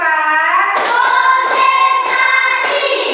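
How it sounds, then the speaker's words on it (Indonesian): Children in a primary classroom clap their hands together in a steady counted rhythm, a handful of sharp, evenly spaced claps over a sustained tonal background. "Kemudian tepuk 4."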